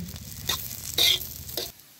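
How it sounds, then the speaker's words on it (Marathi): Green chillies, garlic and cumin seeds frying in oil, a close crackling sizzle with a few louder spitting bursts that cuts off near the end. "असं मिरच्या लसूण आणि जिरं असं चटा चटा चटा भाजून घ्यायचं"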